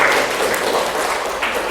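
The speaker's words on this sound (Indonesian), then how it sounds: "Iya, tepuk tangan buat Rafa dulu." Applause from a classroom of students for a classmate named Rafa, a short steady burst of many hands clapping at close range, filling the whole moment.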